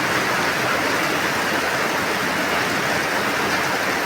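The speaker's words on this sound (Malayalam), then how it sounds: "മഴയുടെ ഒച്ച ഒന്ന് നിങ്ങൾ കേട്ടോട്ടെ" Steady rain falls with a light breeze during the September monsoon, an even, continuous hiss of drops that stays moderately loud from start to finish, with no voices.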